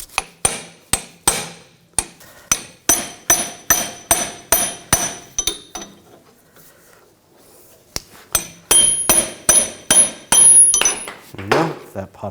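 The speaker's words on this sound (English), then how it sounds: "I'm just going to use a punch and push the bushing the rest of the way out." Repeated sharp metal hammer blows on a punch driving a control arm bushing out of a 2000-2006 BMW X5 front lower control arm, about a dozen loud evenly spaced strikes, a pause, then a faster burst of ringing hits.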